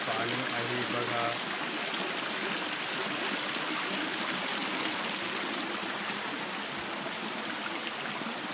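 Spring water flows steadily out of the roots of a fig tree, a continuous close babble and trickle that lasts throughout with little change, plus a brief low voice near the start.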